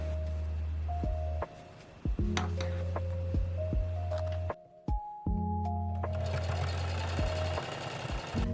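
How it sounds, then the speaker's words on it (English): A sewing machine runs in several bursts of rapid mechanical stitching on a thrifted button-up shirt, stopping briefly between runs, with a steady motor hum close by. "I'm going to go in with my sewing machine"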